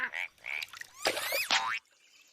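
A cartoon voice imitating a frog, giving a few short, bright croaking and warbling calls with rising and falling pitch, close and clear, ending in near silence.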